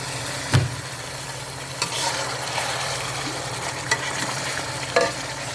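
About 2.5 kilograms of chicken is stir-fried for Bombay biryani, giving a steady sizzle broken by occasional scraping and clanking of a spoon against the pot, with no talking.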